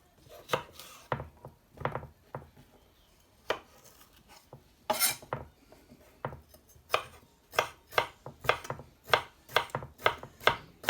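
Knife chopping bell peppers on a cutting board in a home kitchen, a quick series of sharp close taps, irregular at first and then settling into a steady fast rhythm, with no talking.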